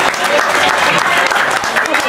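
Audience at a dzikir manaqib gathering clapping steadily in a brief, loud, dense round of applause, with some voices mixed in underneath.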